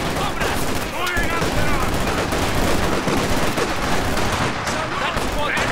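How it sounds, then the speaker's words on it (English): Dense, continuous enemy gunfire from rifles and machine guns crackles through a Company of Heroes 2 Soviet campaign battle, loud and unbroken throughout, while soldiers shout orders over the shooting. "Enemy fire!"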